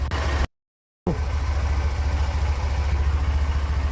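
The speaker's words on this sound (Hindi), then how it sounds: "अभी मैंने बाइक भी स्टार्ट कर दिया है" A motorbike engine idles steadily after starting, a low continuous rumble with a brief dropout near the start, close and fairly loud with no voices.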